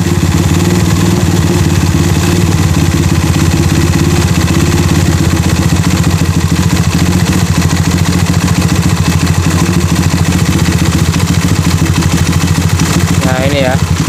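Honda CB100 motorcycle with a 208cc engine idling, a loud steady thumping exhaust pulse with mechanical clatter throughout, up close.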